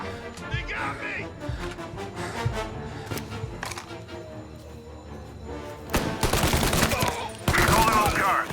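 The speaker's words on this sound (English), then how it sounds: "Reports of gunshots rolling in" Gunfire in the video game Mafia Definitive Edition: scattered single shots, then loud rapid bursts of shooting near the end, with game voices and music underneath.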